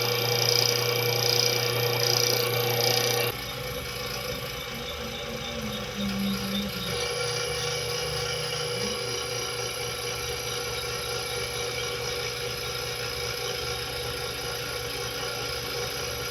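A homemade generator built from a washing machine motor runs with a pulley belt drive, giving a steady whirring hum and high squeal. It grows louder in the first seconds, then settles into a quieter continuous drone.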